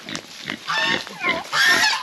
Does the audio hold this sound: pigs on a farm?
yes